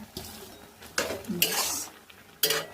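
A spoon stirs cooked vegetarian mixed vegetables and fresh coriander leaves in a pot. Three separate bursts of scraping and clattering metal sound against a faint background sizzle.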